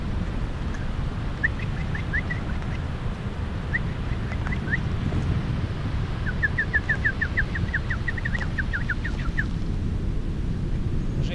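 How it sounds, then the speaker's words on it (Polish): Small birds chirp in short quick bursts of high tweets, fairly faint against a steady outdoor background hiss, with several clusters of rapid calls spaced across the stretch. "Takie małe ptaszki."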